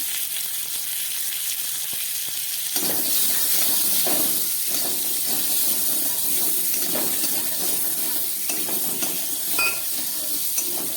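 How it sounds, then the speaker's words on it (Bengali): Mango pieces fry in a hot pan with a loud, continuous sizzle and hiss. Occasional stirring scrapes and small pops sit close in the mix. "আমটাকে একটু ভেজে নিচ্ছি।"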